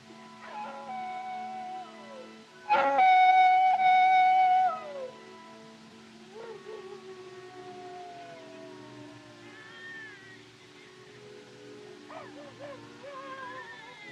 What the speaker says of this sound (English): Them coyotes give me the creeps.